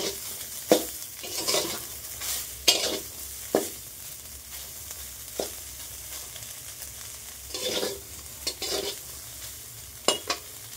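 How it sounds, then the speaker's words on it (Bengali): Veg chowmein with potato and kundru sizzles softly in a pan while a utensil scrapes and stirs in irregular bursts, heard close with no talk. "আমি চাউমিন বানাচ্ছি, এখানে আলু নিয়েছি, কুঁদরি দেবো।"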